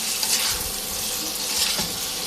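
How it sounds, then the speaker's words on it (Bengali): Radish and fish frying together in a pan for a spicy radish fish curry, a steady close sizzle with faint stirring scrapes and no talk. "এইভাবে সুন্দর মতন করে কষাবো এখন আমি।"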